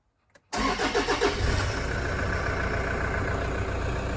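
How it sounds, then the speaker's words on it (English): A car engine cranks with a few rapid stuttering pulses, catches, and settles into a steady, close idle. "What we're going to do is start the car."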